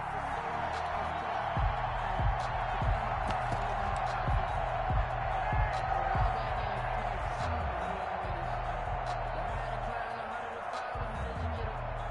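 Stadium crowd in the Madden 21 American football video game roars and cheers steadily, with rhythmic stomps and claps running through, loud and continuous throughout.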